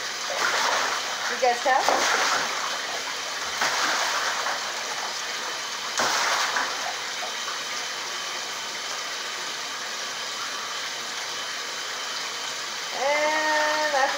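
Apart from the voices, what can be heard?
pet goose splashing in bath water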